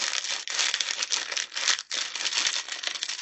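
Continuous crinkling and rustling of wrapping as a package of vintage junk-journaling items is torn and opened, close and busy with brief pauses.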